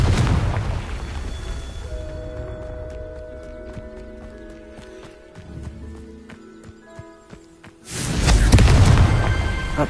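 In the video game Hogwarts Legacy, a Confringo spell erupts in a loud, deep fiery blast after a stretch of ringing magical tones, the rumbling explosion swelling over the last couple of seconds.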